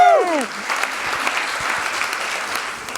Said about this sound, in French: Un tonnerre d'applaudissements pour Carla Bianchi, s'il vous plaît.